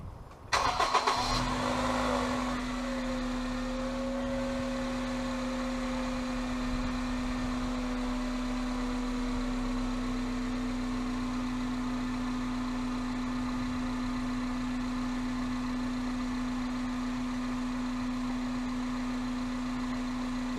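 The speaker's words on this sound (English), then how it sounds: "So now I'll turn on the car to have a listen to the operating engine." A car engine cranks and catches in a brief burst, then settles into a smooth, steady idle hum that runs on alone at moderate volume.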